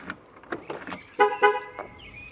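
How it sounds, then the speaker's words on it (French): A 2001–2009 Jaguar X-Type sounds two short, loud horn toots close by after its door is shut, a warning that the alarm has not armed, followed by a fainter electronic tone. "ces coups de klaxon vous signifient qu'en fait l'alarme ne se déclenche pas"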